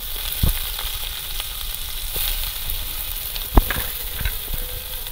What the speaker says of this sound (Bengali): পেঁয়াজটা একটু হালকা ভাজা ভাজা করে নেব।